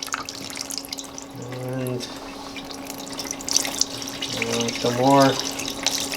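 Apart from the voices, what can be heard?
water and oil draining from Oldsmobile 350 V8 engine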